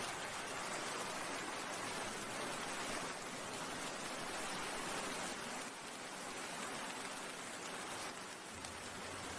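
Steady heavy rain pours down during a storm over an empty market, a dense continuous hiss of drops on surfaces, loud and unbroken with no voices.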